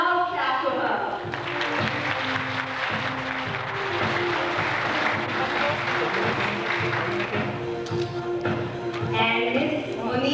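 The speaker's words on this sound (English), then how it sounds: "A loud clap for her." Audience applause at a school annual day prize ceremony for a second-place winner, a dense sustained wash of clapping from a large crowd with voices murmuring beneath it.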